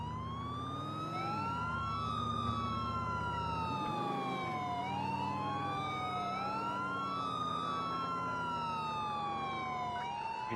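Emergency vehicle siren on a fast response drive, rising and falling in a steady wail with overlapping tones, heard continuously over a low engine rumble at moderate distance.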